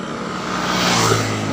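Motorcycles speeding along a wide, freshly asphalted road, a loud engine roar that swells as a bike passes close by, steady and unbroken with no talk.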